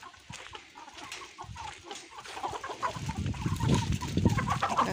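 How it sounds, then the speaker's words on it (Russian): Several young hens cluck in short, overlapping bursts close by, growing busier and louder toward the end, with no talking. "Уже не цыплята, уже молодые курочки, слава богу, начали нестись."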